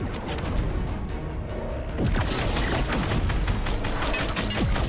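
Rapid bursts of Fortnite gunfire crack in quick succession, a firefight with sharp repeated shots and booming impacts, growing busier partway through.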